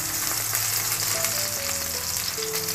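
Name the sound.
tomatoes frying in a pan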